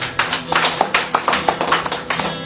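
Rhythmic, fairly close clapping from a church congregation at a French-language service, in a steady pulse of about four claps per second with a murmur of voices underneath.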